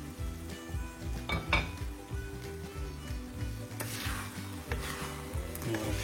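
A cooking pot of tomato bulgur rice being uncovered, with a metallic clink and scrape of the lid and utensils over a steady low sizzle, close and fairly quiet.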